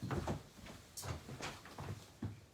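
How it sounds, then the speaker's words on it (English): An indoor room door is pushed shut, giving a few soft knocks and a clunk amid light handling noise, close by and fairly quiet. "So hang on, I'm just going to shut my door."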